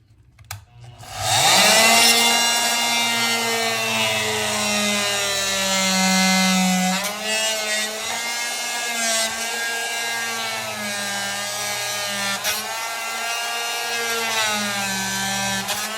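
A power saw whines steadily as it trims a toilet drain pipe during a glued toilet flange repair, starting after a brief quiet lead-in and running loud and continuous with small shifts in pitch, close by and with no talking.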